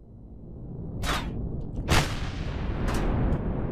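Enemy ships return fire in Empyrion Galactic Survival, a space battle. Three sharp, booming shots land about a second apart over a low rumbling drone, fairly loud and close, with no talking.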